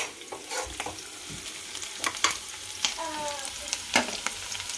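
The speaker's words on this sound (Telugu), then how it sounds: "కొంచెం గోల్డెన్ కలర్ వచ్చేలాగా ఫ్రై చేసేసుకుందాం." Spicy Telangana-style chicken fries in a pan at home toward a golden colour, giving a steady close sizzle with scattered crackling pops and occasional stirring scrapes, with no talking.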